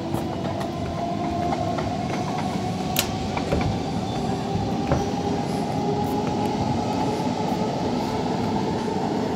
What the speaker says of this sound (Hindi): लोकल ट्रेन जा बर्धमान हावड़ा